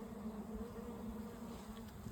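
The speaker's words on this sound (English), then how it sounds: "now we're gonna shake some bees in there" Honey bees being shaken into a hive box after a queen mystery around the excluder, their steady buzzing swarm hum filling the whole stretch, close and continuous with no talk.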